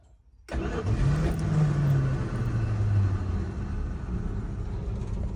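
After a brief crank, the engine of a 1976 Dodge Tioga motorhome catches and settles into a loud, close, rumbling idle, with a short rising rev just after it fires.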